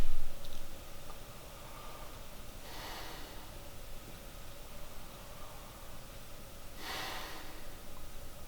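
Two soft breaths out through the nose, each a brief airy hiss a few seconds apart, faint and close against steady background noise, with no talking.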